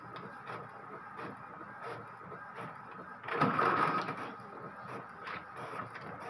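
Epson L120 printer running a test print after a waste pad and lower paper feed replacement: a steady faint mechanical hum with a louder whirring burst in the middle, heard alone.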